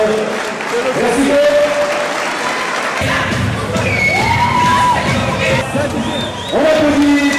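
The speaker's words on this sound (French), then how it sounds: "Merci de bien applaudir." Lively applause and cheering from a crowd, including children's shouts, at a boxing training event in Marseille, with clapping, whoops and chatter running together loudly for several seconds.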